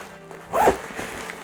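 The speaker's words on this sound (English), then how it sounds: "I'll zip up afterwards" A zipper on a first aid kit pouch is pulled shut in one quick, fairly close stroke, standing alone over a quiet background.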